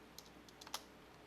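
Light typing on a computer keyboard, a few faint, quick key clicks scattered over about a second in a quiet room.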